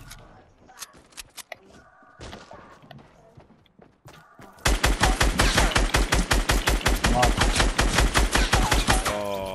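Fortnite gunfire from the player's own weapon: rapid, loud bursts of shots in a steady hammering rhythm through the second half, with a quieter stretch of scattered game sounds and footsteps before it.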